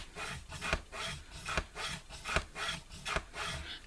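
A tool rubs and perforates a scored line across paper while a chocolate gift bag is folded, a repeated rasping stroke about every three quarters of a second, close and moderately quiet with no talk.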